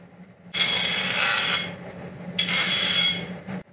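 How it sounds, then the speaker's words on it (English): A file rasping along the sharp bottom edges of a metal Melbourne Tool Company block plane to chamfer them, two close, loud, gritty strokes about a second long each with brief pauses. "I'm putting a chamfer on my chamfering tool."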